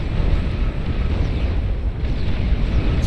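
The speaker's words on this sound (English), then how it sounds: "it does result in a massive explosion" A massive explosion in the real-time strategy game Beyond All Reason gives a sustained deep roaring rumble, loud and continuous throughout with no voices.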